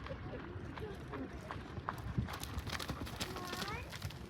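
Hooves clip-clop rapidly as a horse runs at a barrel racing jackpot, a faint, quick rhythm heard under people talking, with a brief whinny near the end.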